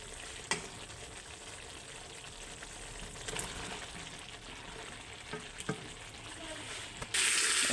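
Rui fish frying in hot oil, a steady soft sizzle with a few sharper crackles and spits over its length, fairly close and moderate in level.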